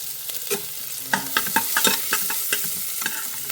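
Chopped shallots fry in hot ghee, a bright close sizzle broken by a string of sharp stirring scrapes and clicks, with no voices.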